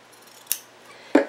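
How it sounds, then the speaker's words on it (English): Scissors snip through quilt fabric twice, each cut a short, crisp click spaced about half a second apart, close and fairly quiet with no talking. "Oh, let me trim."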